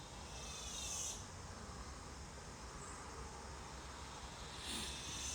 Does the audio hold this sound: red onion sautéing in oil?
no